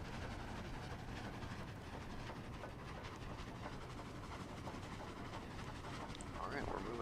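Train rolling along in the Roblox game Dead Rails, a steady rumbling run with faint rhythmic clatter throughout, heard under people talking.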